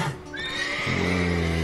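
Horses in The Witcher 3 video game give a loud, close, drawn-out neigh that rises into a wavering whinny and then settles lower, with faint hoof movement and no speech.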